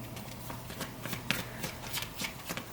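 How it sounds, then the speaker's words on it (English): Tarot and angel cards shuffled by hand in a steady run of soft riffling flicks and slaps, close and moderately quiet, with no talking. "I will pull a Romance Angels card"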